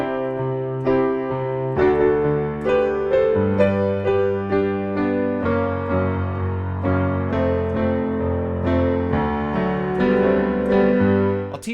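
Solo piano plays the chord progression of a song's intro, with sustained block chords changing in a steady rhythm, close and clear with no voices.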